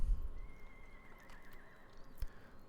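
Horses whinny and neigh in a strategy video game, a single clear, drawn-out call that rises and wavers, faint and alone, with a soft thump near the end.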